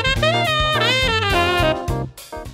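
A jazz phrase built on a dominant pentatonic scale over a minor chord, played as a quick run of clear, closely spaced notes with bends and slides, close and unaccompanied, fading at the end.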